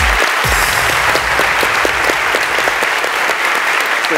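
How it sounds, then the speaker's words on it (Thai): A studio audience at an innovation awards final applauds steadily, a dense, loud wash of clapping that fills the whole stretch without any talk over it. "ขอเสียงปรบมือหน่อยครับ"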